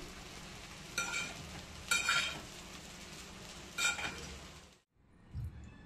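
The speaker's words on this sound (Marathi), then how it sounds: "बारीक चिरून घेतलेली कांदा पात टाकायची आणि पुन्हा आपल्याला मिक्स करून ते परतून घ्यायचे" Fried rice with chopped spring onions is stir-fried in a pan over a quiet, steady sizzle, with three distinct bursts of spatula scraping and clinking against the pan before a short silence.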